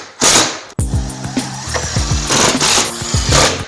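Power driver driving screws into wall studs, loud buzzing motor bursts with rhythmic ratcheting pulses, repeated in quick succession after a brief first whir and a short pause.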